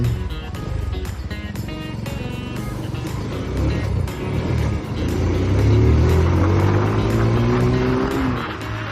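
A vehicle engine during a ride, loud and close, its pitch climbing steadily as it revs up and holds, with clattering sharp knocks early on and a constant roar of road and wind noise.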